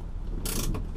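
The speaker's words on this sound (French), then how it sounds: "C'était juste pour vous faire tester le frein à main" Handbrake on a 1965 Ford Mustang V8 convertible: a short, close mechanical ratcheting burst, with a brief click just after, over a low steady rumble.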